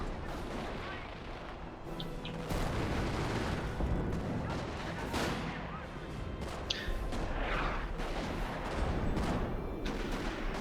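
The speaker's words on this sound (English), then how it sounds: "Sounds like more artillery incoming on the house with a machine gun in it." Artillery shells pound a house holding a machine gun in the Company of Heroes video game, a dense, continuous barrage of booming blasts and rumbling impacts with no pause.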